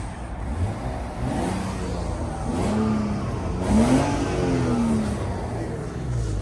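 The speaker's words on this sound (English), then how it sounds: "Let me give it a rev. Just see how it sounds." A Japanese import car engine with about 25,000 kilometers revs a few times, its pitch rising and falling over a low steady idle rumble.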